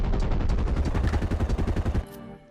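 Rapid bursts of gunfire from a shotgun and an SMG in a video game, a dense fast string of loud shots that stops abruptly.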